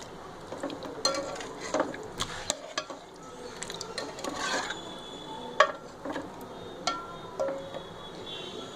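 A spoon scrapes and rasps around a pan of raw banana curry as salt is mixed in, with soft irregular stirring strokes, occasional metallic taps and a faint sizzle, close and quiet.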